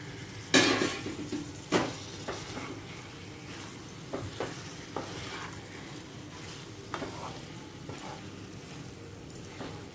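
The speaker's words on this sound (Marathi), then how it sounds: "कांद्याजवळच्या कांदीची पात असते ना ती यामध्ये घालून मी परतवून घेणार" Prawns being sautéed with chopped spring onion greens in a pan, spatula scrapes and metal clinks over a faint steady sizzle, moderately close with no talking.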